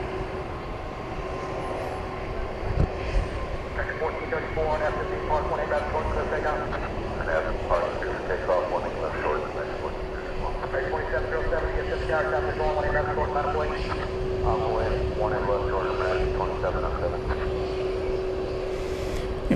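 A UPS Boeing 767 jet at DFW Airport at night gives a steady, distant engine roar with a sustained whining tone, holding evenly throughout.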